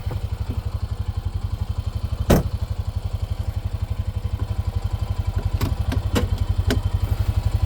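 A four-wheel drive utility vehicle engine thrums with a steady, rapid low pulsing as it pulls away, loud and near, with a few sharp knocks and clatters over it.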